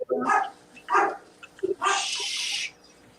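Rowdy dogs indoors bark in several loud close bursts, the last a longer sustained yelp, with no talk over them.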